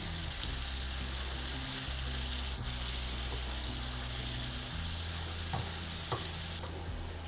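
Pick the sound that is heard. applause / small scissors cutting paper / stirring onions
stirring onions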